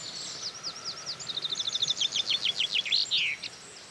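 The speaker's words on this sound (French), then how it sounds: "Puis il y a aussi un pinson des arbres qui est juste là dans le sapin." A common chaffinch sings from a fir tree nearby: a bright, accelerating series of repeated chirps building into a rapid descending trill with a flourish at the end, loud and clear over a quiet rural background.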